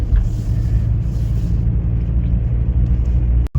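A BMW E46 3 Series runs along a main road, heard from inside as a steady low engine and road rumble, fairly loud and continuous, ending with a brief sharp dropout near the end.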